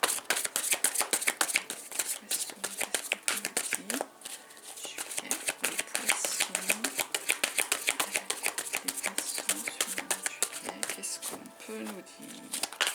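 Oracle cards from a Béline deck riffled and shuffled by hand in a steady run of crisp papery flicks, with a voice talking over the shuffling at times.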